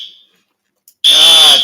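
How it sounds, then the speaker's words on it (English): A fire alarm sounds indoors with a brief tone that fades, a pause, then a loud, steady, piercing beep starting close by. "That's a fire alarm."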